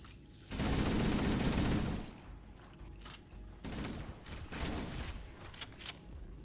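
Loud bursts of gunfire in the video game Halo: Combat Evolved, first a sustained volley, then scattered shots and rattling mechanical sounds.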